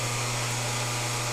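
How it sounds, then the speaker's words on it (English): Honing machine working the bore of a Harley-Davidson Panhead motorcycle cylinder: a steady, continuous motorized hum with a strong low drone and broad grinding hiss, unbroken throughout. "now we just take the cylinder and we put it on the honing machine"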